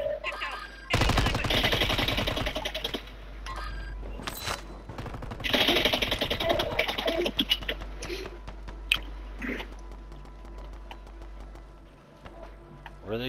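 Call of Duty gunfire rattles in sharp automatic bursts, several loud clusters of rapid shots separated by quieter gaps with scattered single cracks, some close and others more distant.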